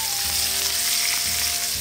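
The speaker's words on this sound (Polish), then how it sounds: "Boczek podsmaża szynki" Ham slices frying in a pan for toasts during an outdoor camping breakfast by a pond, a close continuous crackling sizzle with faint scraping, no talk.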